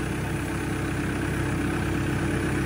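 A small Massey Ferguson tractor's engine idles at close range, a steady, loud, unbroken low rumble with no talk over it.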